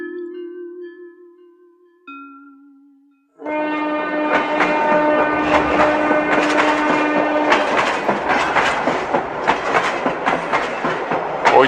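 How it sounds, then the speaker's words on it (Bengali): A cartoon train pulls into a station: two sustained horn tones sound first, then loud, continuous rattling and clattering of wheels on rails with rhythmic clicks, close and steady. "ওই যে ট্রেন চলে এসেছে"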